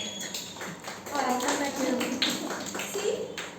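A group of children claps hands in short, uneven bursts in a classroom setting, mixed with voices talking over and between the claps.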